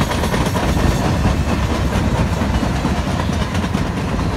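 A Norfolk Southern freight train led by SD60 diesel locomotives, including an SD60M and SD60E with a UP SD70M, passes close and loud, its engine roar blending with steady rumbling and clattering wheels throughout.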